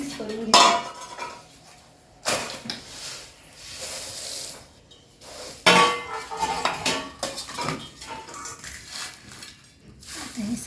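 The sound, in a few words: mixing spices in a pot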